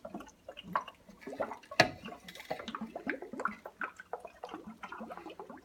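Grape water kefir poured through a funnel into a bottle, a close, uneven trickle with small splashes and gurgles and one sharper clunk partway through, no talking.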